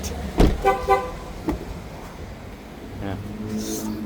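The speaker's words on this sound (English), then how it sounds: "it just honks the horn and it unlocks" A car horn gives a few short, loud honks near the start as someone tries to lock the keys inside, and the car refuses and unlocks itself. Quieter vehicle noise and a voice follow.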